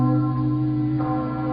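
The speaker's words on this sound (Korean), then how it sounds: "곧바로 두 번째 종소리가 났어요" The great Emille temple bell of Silla rings in a folk tale, a deep resonant tolling with a long humming sustain and a second strike mid-way, clear and alone.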